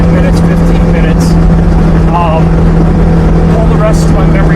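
Kioti tractor engine running while driving, a loud, constant close drone with a steady low hum throughout and no pauses.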